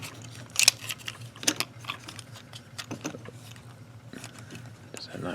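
Hard plastic parts of a Transformers Combiner Wars Brake Neck toy being folded, spun and collapsed during transformation, giving close, irregular clicks and snaps with light rattling handling noise.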